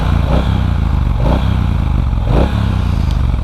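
A 2018 Triumph Bonneville T120 fitted with a Vance & Hines exhaust revs up close and loud, a throaty twin-cylinder rumble swelling in three distinct surges before settling back to idle.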